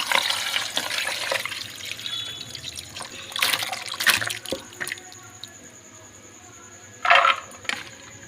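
Soaked banana flower and chickpeas being strained, water splashing and trickling in uneven bursts with a few sharper drips and knocks, close and fairly loud.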